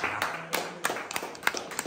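Scattered clapping from a small group after a Valencian paella contest, sparse, uneven claps with distinct individual hits, fairly quiet and close.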